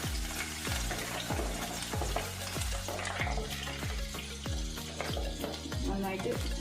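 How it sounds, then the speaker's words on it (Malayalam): Chopped bitter gourd fries in coconut oil, a steady sizzle broken by regular scraping stirs of a spoon in the pan, close and even throughout. "നമ്മൾ ഈ അരിഞ്ഞു വെച്ച കയ്പ്പക്കായ നന്നായിട്ട് വറുത്ത് കോരണം."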